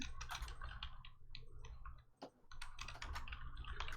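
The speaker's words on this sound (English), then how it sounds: "I'm typing this on the Discord." Rapid clattering keystrokes on a computer keyboard, close and fairly quiet, with a brief pause midway before the typing resumes at a steady pace.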